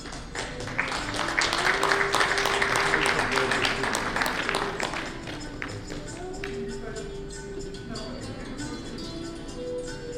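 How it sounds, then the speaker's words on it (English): An audience at a technical conference session applauds the speakers, dense clapping loud at first and then thinning out, with voices talking underneath. "Let's give a big round of applause to Mr. Thangaraju and all our esteemed speakers"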